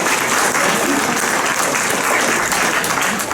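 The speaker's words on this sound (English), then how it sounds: "Go ahead and round of applause for him as well." An audience at an auto racing hall of fame ceremony claps loudly and steadily in a dense, continuous round of applause, with scattered cheers in the mix.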